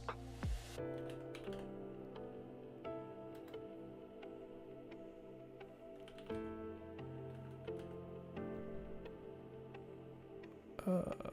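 Soft, close keystrokes on a computer keyboard tap in an irregular rhythm over a faint, steady background hum.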